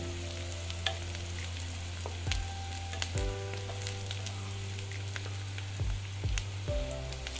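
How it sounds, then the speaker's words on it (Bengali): Chopped onions fry with garam masala in a pan, giving a soft, continuous sizzle broken by occasional spatula scrapes and taps, close and fairly quiet. "গরম মশলা দিয়ে দিচ্ছি। হ্যাঁ, গরম মশলাটা আমি পেঁয়াজ দেওয়ার পরেই দিয়েছি। দিয়ে আমি ভেজে নিচ্ছি।"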